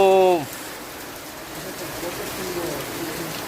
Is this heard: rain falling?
yes